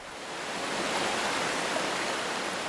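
A swollen river carrying heavy rainwater runoff rushes past in a steady, dense broadband roar that holds constant throughout, close and fairly loud, with no voices.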